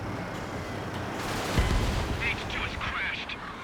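Aircraft machine gun fire in the combat flight game Ace Combat 7, a short burst of rapid gunfire over a steady jet engine drone, fairly faint in the mix, with someone talking over it.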